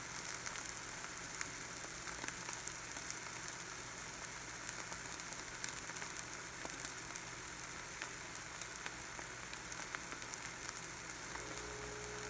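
A cheesy omelette cooks in a frying pan, giving a soft, even sizzle with faint crackles throughout, steady and close, and no voices.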